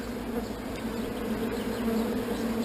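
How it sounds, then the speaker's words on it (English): Dense, steady buzzing of many honeybees crowded inside an artificial swarm box around a caged queen, a continuous close hum with no voices. "We've put lots of bees in there."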